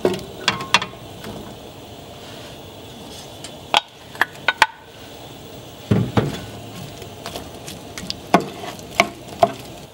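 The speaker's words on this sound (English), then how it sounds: "I will stir the onion until they are brown" Onions frying over high heat in corn oil, a low sizzle under frequent sharp clacks and scrapes of a utensil stirring against the pan, close and irregular.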